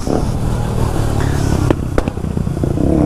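A Kawasaki Ninja 300 motorcycle engine running loud and close, rough and rumbling with clattery mechanical noise and a couple of sharp transient clicks, without clear sustained revs.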